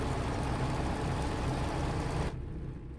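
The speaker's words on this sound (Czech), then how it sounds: "A teď slyším sekačku na trávu." A lawn mower engine drones steadily and fairly loudly in American Truck Simulator near Greybull, Wyoming, then drops away abruptly, leaving a quieter rumble.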